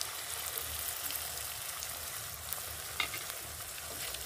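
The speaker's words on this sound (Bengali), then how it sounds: "ডিমটাও ঝুড়ো ঝুড়ো করে নেব" Beaten eggs scrambling in a hot pan with onion, chili and a pinch of turmeric give off a steady, close sizzle, with a few sharper spatters from stirring and no voices.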